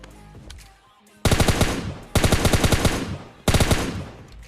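Loud automatic gunfire in the mobile battle royale game PUBG Mobile Lite, three sustained rapid-fire bursts after a quieter opening.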